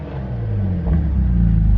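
An old Saab 9-3's engine rumbles loudly and revs up, a deep steady roar that swells slightly in the second half.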